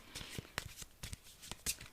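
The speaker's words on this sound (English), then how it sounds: "I'm going to shuffle the cards up." A hand shuffles a deck of cards, producing quiet, irregular soft slaps and flicks spread over two seconds, close but faint.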